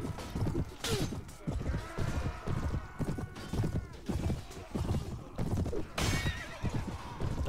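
Horses gallop and neigh in the battle game Clash of Kings, a rhythmic clip-clop of hooves pounding steadily throughout, with sharp whinnies rising over the gallop.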